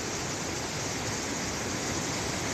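Rushing water of Minter Creek, a loud, steady broadband roar heard close up, continuous and unbroken with no voices.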